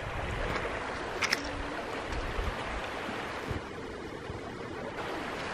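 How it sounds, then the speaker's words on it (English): A small creek in David Crockett State Park flows in a soft, constant trickling wash, faint and even, with a few slight splashes and no talking. "I just wanted to show you the little creek."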